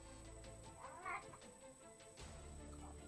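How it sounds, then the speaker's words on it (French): A cat grumbles and meows briefly behind a person drawing, a short faint caterwaul with a softer follow-up, set against a quiet steady hum. "j'ai un chat qui vient de râler derrière moi"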